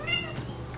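A hairless cat gives a short, soft meow indoors during a summer morning routine, one brief thin cry over a low background hum.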